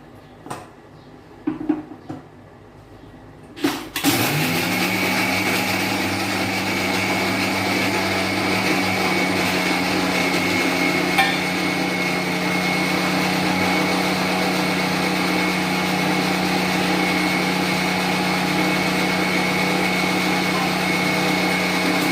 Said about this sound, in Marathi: मिक्सर मध्ये बारीक करते हे.